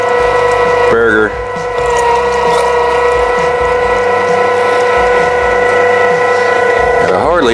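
An electric meat grinder runs steadily, grinding venison and fat for burgers: a loud, constant mechanical whine with layered tonal hum, briefly dipping and wavering as a piece catches before it resumes at full speed.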